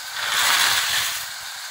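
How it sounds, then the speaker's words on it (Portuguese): Water at a rolling boil in a pot as rotini pasta is added, a steady close bubbling hiss with soft low rumbling underneath. "Nossa água já tá fervendo, agora a gente vai colocar o macarrão"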